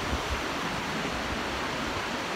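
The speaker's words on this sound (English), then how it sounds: "It's just freaking raging rapids right now." A raging creek in flood with rushing rapids, a loud continuous roar of churning water close by with some rumbling, and no voices.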